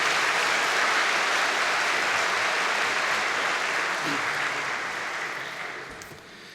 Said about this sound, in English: Let's give one more big round of applause, ladies and gentlemen, to the MacEwan University Big Band.